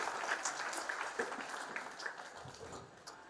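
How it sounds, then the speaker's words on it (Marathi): At an award ceremony in Maharashtra, an audience applauds in a dense, steady wash of clapping that continues evenly and fades slightly toward the end. "टाळ्यांचा कडकडाट होऊ"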